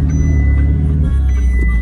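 A violet one-of-one Ferrari 488 Pista in Hong Kong gives a loud, close engine drone with a steady low rumble, held without pause.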